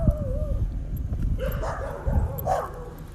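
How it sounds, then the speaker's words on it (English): Dogs on a street corner in Gadsden, Alabama bark and yip, with whining, whimpering calls rising over a low rumble of outdoor background noise, moderately distant. "Dogs going off."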